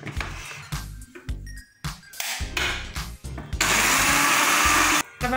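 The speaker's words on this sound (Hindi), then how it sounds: "अब मैं इसको कर दूँगी ग्राइंड।" A blender grinds garlic paste and oil for homemade garlic mayonnaise, first in short stop-start pulses and then in one loud, sustained whir up close, with no speech.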